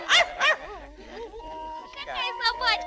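A white poodle yips and whimpers in short, high barks, with two sharp yelps at the start and more toward the end, close by and mixed with talk.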